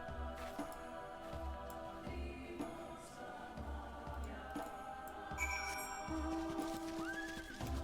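A horse whinnies over steady clip-clopping hooves, with layered background music and ambient tones underneath, in the video game Final Fantasy XIV: Stormblood.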